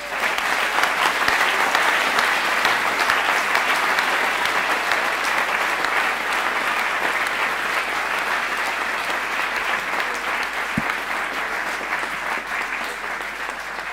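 Dense, sustained audience applause at a reception, loud and even throughout, many hands clapping together without a break.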